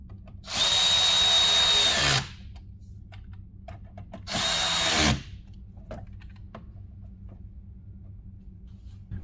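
A power tool tightens the mud flap mounts on a 2019+ Chevrolet Silverado 1500 in two loud, close whirring bursts, the first about a second and a half long and the second shorter, with quiet room tone between them.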